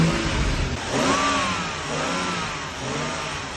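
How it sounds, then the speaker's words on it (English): A BMW 435i convertible's engine runs close by, a steady mid-pitched hum with slight rises and dips in revs and no voices. "The engine is running right now."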